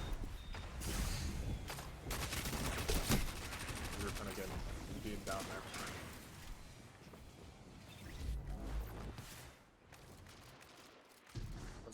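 Hand cannon gunfire in the video game Destiny during a fast multiplayer match, with repeated sharp shots and bursts crackling through a dense, busy mix of game sound and voice over about twelve seconds.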